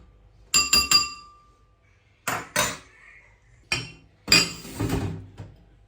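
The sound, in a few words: spoon mixing salt into suya spice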